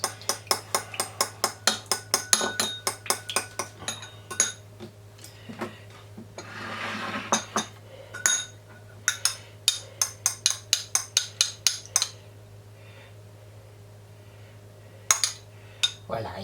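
Olive oil vinaigrette being whisked in a bowl, a rapid run of sharp clinks and taps against the bowl, with a brief swishing stir midway, a pause, then a few more taps.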